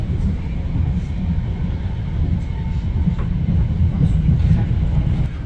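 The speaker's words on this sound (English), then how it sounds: "I'm liking your new trains, Merseyrail." A Merseyrail passenger train rumbles steadily along with a constant low drone and faint rattling, loud and close as if heard from inside a carriage.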